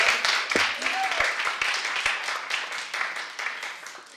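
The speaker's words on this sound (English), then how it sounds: "more round of applause for BAPS, everyone." Audience at a county commissioners' special presentation gives a round of applause, sharp individual claps over a dense, gradually fading wash of clapping.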